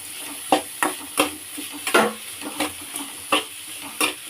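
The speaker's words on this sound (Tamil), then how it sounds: "அதில் போட்டு நல்லா வதக்கிக்கலாம்." Snake gourd pieces and seeds sauté in a pan, a gentle sizzle broken by about a dozen sharp scraping stirs at a steady, unhurried pace, close and clear with no voices.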